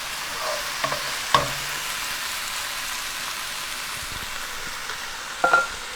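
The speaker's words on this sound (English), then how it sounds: "I try to let them sit and get like a nice little crust on them and then just give them one stir" Mushrooms sizzling in a pan, a steady close frying hiss throughout, punctuated by a couple of brief clatters and scrapes as they are stirred.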